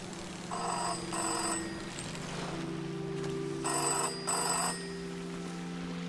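A telephone rings in the video game Season: A Letter to the Future, giving two pairs of bright electronic ring bursts over a soft sustained musical drone, moderately quiet.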